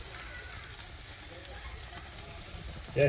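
Meat sizzles quietly in a pan with a steady soft hiss, and a brief voice cuts in right at the end.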